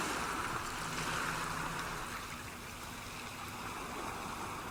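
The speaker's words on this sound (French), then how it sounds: "par exemple vague de l'océan" Ocean waves from a Jabra Elite 85T earbuds app soundscape, a steady, soft wash of surf and rushing water with no breaks, faint and continuous throughout.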